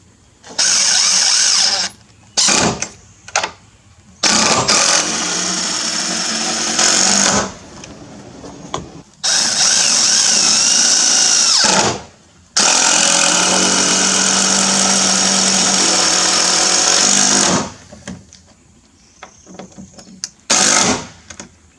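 Power driver sinking long screws through a door security plate into the frame studs, several sustained whirring runs of a few seconds each, loud and close, separated by short quiet pauses.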